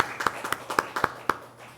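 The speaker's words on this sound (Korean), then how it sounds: "박수로서 환영하겠습니다" A church congregation claps in welcome, a handful of sharp, rhythmic hand claps in an even beat, fairly close and moderately loud in a quiet room, fading after the last strike.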